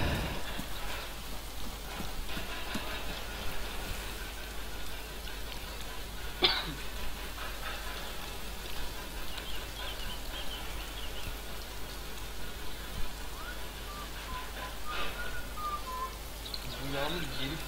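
Steady rain patters in the survival game DayZ, a soft continuous hiss under occasional faint clicks and someone talking now and then.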